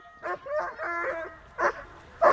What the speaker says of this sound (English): Ask for a little more on the barking.